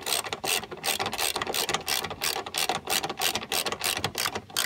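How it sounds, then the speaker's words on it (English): A socket wrench ratchets in quick repeated bursts of clicking while tightening strut bolts on a BMW, close and crisp with short pauses between strokes. "So just tighten them with your socket wrench just enough that you are able to get them so that it holds the strut in that position"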